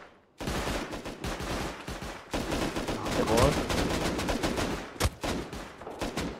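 Dense bursts of gunfire fill a firefight in the survival game Rust on console, rapid shots and fusillades crackling nearly without pause, loud and close, with voices partly under the shooting.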